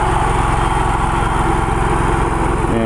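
A vertical mower runs steadily on golf course turf, a loud, close, continuous engine drone with a rapid rhythmic chatter of blades, unbroken for the whole stretch and with no talking.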